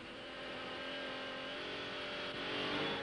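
A race car on the Trophée Andros ice circuit in 1998 sweeps past with a steady high engine drone that swells slightly as it nears, heard at moderate distance.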